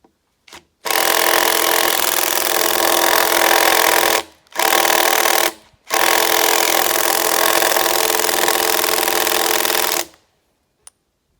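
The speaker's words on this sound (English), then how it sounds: "So I'm gonna try this Bosch impact drill, this little guy, and see if it's got the power." A small Bosch impact drill whines loudly as it bores into a log for a log-framed woodshed, in three long bursts separated by brief pauses, then stops.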